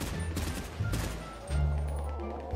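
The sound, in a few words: gunshots in video game GTA RP zombie server (FiveZ)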